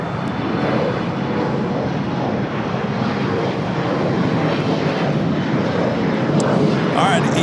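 A heavy Boeing 777 jet airliner departs LAX with a loud, continuous roaring rumble that holds steady and close throughout, with a voice faintly present beneath it.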